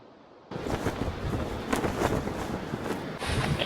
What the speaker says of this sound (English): It's getting a little windy out there.